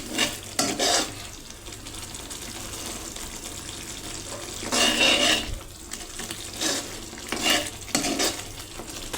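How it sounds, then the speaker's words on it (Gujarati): Green chilies are stirred in a hot pan over a medium gas flame, giving a steady sizzle with louder scraping bursts from the spoon every few seconds, with no voices. "મરચું નાખીને તેને આ રીતે હલાવી લેવાનું છે સારી રીતે।"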